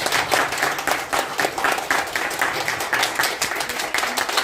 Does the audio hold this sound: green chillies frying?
no